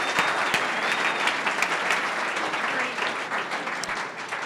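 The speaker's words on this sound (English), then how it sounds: "Round of applause." Applause from an audience at an Atlanta Tech Village startup event, a continuous patter of many hands clapping at moderate level with a few sharper individual claps standing out, no talk over it.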